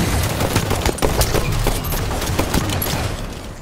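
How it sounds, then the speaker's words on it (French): Sniper rifle fire from a video game cracks out in a quick run of sharp, loud shots with a little background noise and no talking. "Le fusil sniper est prêt."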